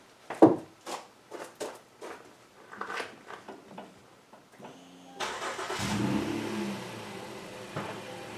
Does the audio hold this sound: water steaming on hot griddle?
no